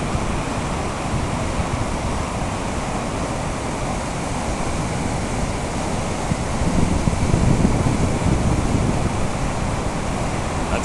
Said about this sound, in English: checking the flow of the water, the big flood as it's coming down